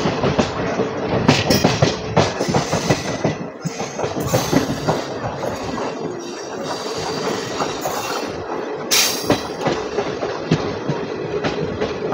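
The Agartala-Karimganj DEMU 75679 rolling along on its way into Mungiakami, a continuous rattling rumble with repeated clickety-clack of wheels over rail joints and occasional squealing bursts, close and steady throughout.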